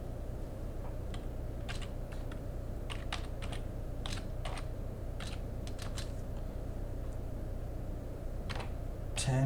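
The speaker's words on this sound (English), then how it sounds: "And I type in network" Rapid, uneven clicks of a computer keyboard being typed on while entering network settings, crisp keystrokes in short bursts over a steady low hum, close to the microphone, with no talking.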